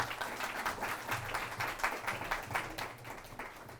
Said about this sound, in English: Let's hear a round of applause for her.